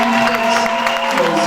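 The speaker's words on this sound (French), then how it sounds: "offrons à Jésus une offrande d'acclamation" A church congregation at a conference service claps and cheers in praise of Jesus, a loud, dense wash of crowd noise with sustained voices ringing through it.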